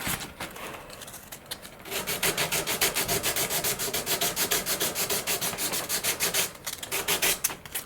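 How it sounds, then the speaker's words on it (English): Steady back-and-forth sanding strokes rub against a carbon composite RC sailplane wing tip in a quick, even rhythm, close up, after a brief quieter stretch. "We are sanding through a lot of that thin CA"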